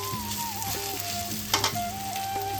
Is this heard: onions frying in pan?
yes